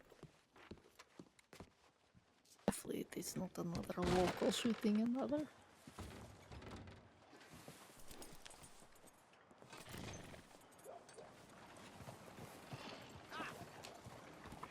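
A horse gallops past in the WildRP western roleplay game, with hoofbeats swelling loud and close midway, then fading under ongoing conversation.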